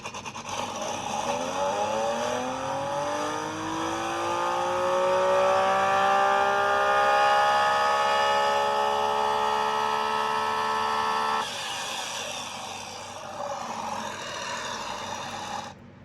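Car engine in the game Automation revving on a dyno, a rough tractor-like tone climbing steadily in pitch and loudness for about eleven seconds, then cutting off abruptly to a lower idle-like hum.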